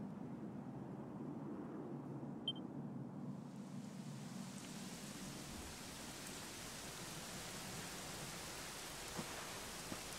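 Steady rain in Dragon Quest XI pours in a dense, even hiss, with a low rumble fading out early on and a couple of faint drips standing out.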